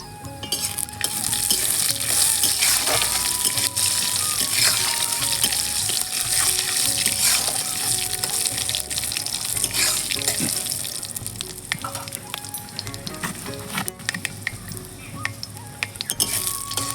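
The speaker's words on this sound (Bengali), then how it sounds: "আর এই যে 5 ফোড়ন, শুকনো লঙ্কা আর তেজপাতা ফোড়নে দেব" Five-spice seeds, dried red chilli and bay leaf fry in hot oil, giving a dense, continuous close-up sizzle and crackle over about seventeen seconds, with occasional stirring scrapes.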